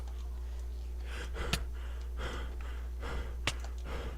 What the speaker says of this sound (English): Why am I hearing breathing?